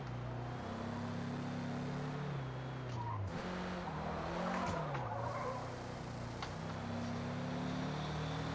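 Small E-Class race car in the Forza Motorsport video game, its engine note rising and dropping through gear changes while tires squeal and skid through corners, loud and close throughout.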